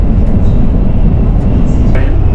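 A Japanese bullet train at high speed, heard from inside a carriage as a loud, steady rumbling roar with a deep low drone and no clear breaks.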